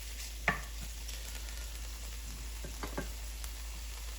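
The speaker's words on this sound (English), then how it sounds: "Take your time when rendering fat because we're attempting to excrete as much fat out of it as possible without burning the bacon." Lardons of smoked pork belly bacon render in a pan with a quiet, steady sizzle, broken by a few distinct spatula taps and scrapes, close and alone.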